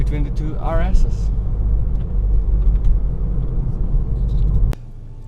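Engine rumble of a 17-year-old Renault Clio 172 Sport heard from inside the car, a steady low drone under someone talking, cutting off abruptly near the end.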